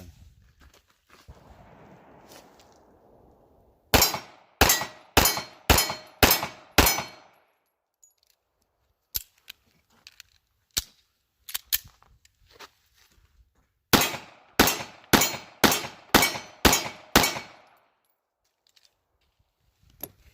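A Taurus Spectrum pistol fires two loud rapid strings of about six shots each, separated by scattered sharp single clicks and clanks, with no talking.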